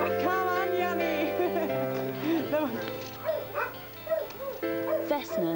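Rescued dogs yip, whimper and bark in a busy overlapping chorus at close range, with high whines rising and falling throughout and people talking among them.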